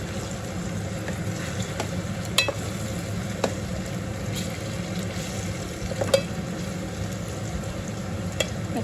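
Fresh brinjal pieces fry in plenty of oil, a continuous close sizzle and bubbling hiss with a few faint clicks of a utensil against the pan, heard alone without talk.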